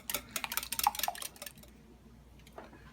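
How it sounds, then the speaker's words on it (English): A small whisk beating a quiche egg mixture in a bowl, a quick run of light metallic clicks and taps against the sides for about a second and a half, then near quiet with one faint clink. "Take your little whisk and whisk it up again."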